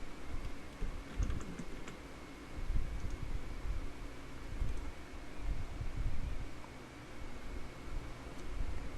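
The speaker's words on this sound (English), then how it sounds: "Type your Gmail username and password." Quick, irregular clicking keystrokes on a computer keyboard as a Gmail username and password are entered, soft and close against a faint steady room hiss, with no talk.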